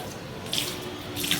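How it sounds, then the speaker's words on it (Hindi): Water splashes and pours in a steady running stream, like a tap or vessel emptying into a basin, with brief louder gushes; no voices. "ऐसे डाल ना पानी।"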